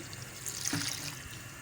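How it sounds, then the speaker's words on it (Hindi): Two glasses of water poured into a cooking pot of ridge gourd set on a stove over high flame, a brief, soft splash and trickle heard faintly and close by. "2 गिलास पानी ऐड करेंगे हम इसमें"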